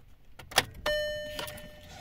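A Skoda Octavia 1.4 Classic engine is restarted: a couple of sharp clicks, then a sudden mechanical whirr with a steady tone that catches and slowly fades, close up with no talking.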